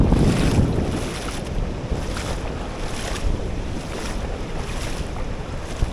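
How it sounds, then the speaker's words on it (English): Waves crash and wash around with gusting wind buffeting the microphone, a loud, churning surf close by on a rock platform beneath the cliffs at Norah Head beach. "I'm walking through water"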